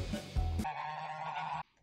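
Geese in the video game Battle Cats give a short burst of honking, a couple of quick squawks and then one sustained nasal honk, loud and close before it cuts off abruptly.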